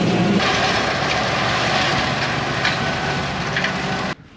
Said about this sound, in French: ça fait un gros tracteur pour une petite faneuse